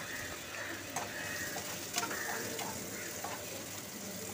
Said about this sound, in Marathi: एका कढाईमध्ये तुम्ही तेल घालून घ्यायचं. त्याच्यामध्ये थोडेसे जिरं, कांदा आणि चांगलं परतून घ्यायचं.